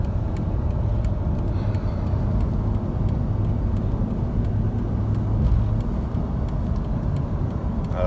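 A 2006 Jeep Commander Limited 4x4 with a 5.7 L Hemi V8 cruises along a highway, its steady engine drone and road roar filling the cabin continuously, with passing traffic swelling briefly near the end.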